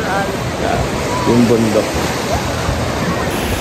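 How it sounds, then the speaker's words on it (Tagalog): Steady surf from ocean waves at a beach resort washes continuously as a broad, even roar close to the listener, with a few brief voices speaking over it. "Ang sarap sa tenga ng tunog ng alon."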